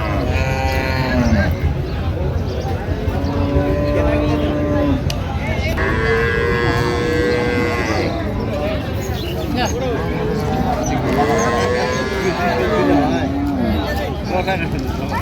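Dairy cows and calves moo repeatedly, some long drawn-out lows near and farther off, under constant crowd chatter at a busy cattle market in Raniganj, Dinajpur.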